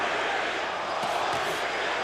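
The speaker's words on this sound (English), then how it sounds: "Crowd chanting, holy, holy, holy." A boxing crowd at an Evander Holyfield versus Larry Donald fight fills the arena with a dense, continuous roar, chanting "holy" in support of the fan-favorite fighter, loud and steady throughout with no clear breaks.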